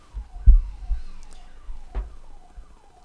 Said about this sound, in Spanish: casi como el de la alarma de los vecinos,